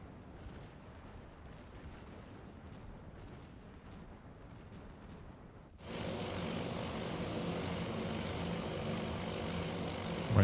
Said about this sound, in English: My dive bomber's gonna try and hit a destroyer too.